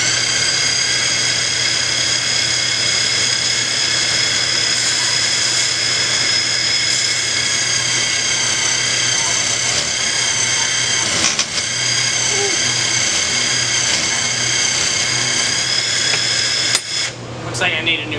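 Steady, loud whine and roar of a grinder cutting off the tip of a feather Damascus blade at an angle, a continuous high-pitched grinding that holds for the whole stretch, with a brief falter near the end.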